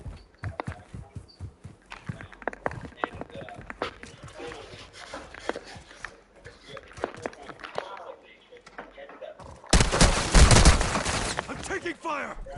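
Gunfire in the Call of Duty Warzone 2 video game, a burst of loud rapid shots near the end following a stretch of scattered footsteps and movement noises, with a voice talking throughout.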